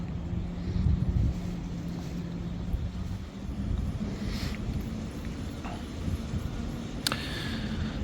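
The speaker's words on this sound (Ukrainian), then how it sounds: "Ну, вітер трохи таки шпарить так." Wind rushing and buffeting across a microphone near a small wind turbine, a constant low roar with faint distant rumbling, no voices heard.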